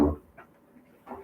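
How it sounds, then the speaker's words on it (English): A dog makes a brief burst of panting and whimpering sounds, close and short, followed by faint gaps and a second small burst. "The dog."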